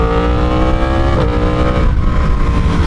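Yamaha R1 sport bike with a full exhaust system, engine running loud and close with a steady, rich roar that rises slightly in pitch as the throttle is held on, no voices over it.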